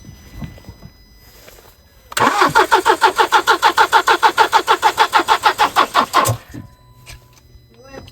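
A car engine that has not been run for two or three days cranks in a long rhythmic starter whir for about four seconds, loud and close, then cuts off, with quieter sounds before and after.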